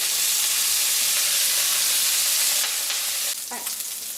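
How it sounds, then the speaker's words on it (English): Pork browning in hot lard in a cast iron pan for Filipino adobo, a loud close hissing sizzle that dips slightly near the end with a brief stir. "I've got that lard heating up in this cast iron pan over here. And we're just going to brown this meat up."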